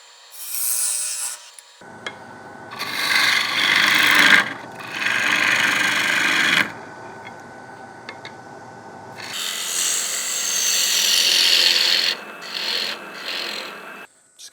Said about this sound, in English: Switching gears to a 16mm woodcut bowl gouge, sharpened to 45 degrees.